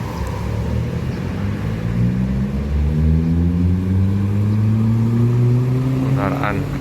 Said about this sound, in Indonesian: Ini bus medium.